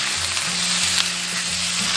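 Pork belly sears in a little hot oil in a wok, giving a loud, continuous close sizzle and frying hiss with no voices over it.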